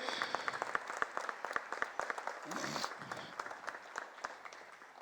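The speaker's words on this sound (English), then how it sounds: "Put your hands together for him." A small quiz-competition audience in Pune applauds a runner-up, giving steady, moderately distant clapping that carries on throughout, with a voice briefly audible partway through.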